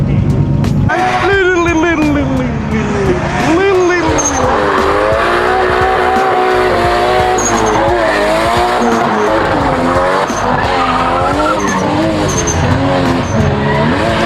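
A drift car with a fresh alignment and drift setup slides around a race track, its engine revving loudly and continuously with tires squealing, and people talk over it at times.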